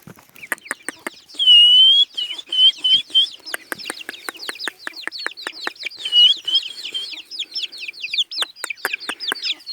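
A yellow wild junglefowl clucks and chirps outdoors, mixing sharp, evenly repeated clicking calls with higher whistling notes that rise and fall, close and clear in otherwise quiet surroundings.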